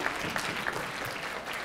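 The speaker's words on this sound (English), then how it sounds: "Give a round of applause for the..." Brief applause from a high school audience during a speech, a short burst of clapping that is moderately quiet and steady, with faint crowd murmur underneath.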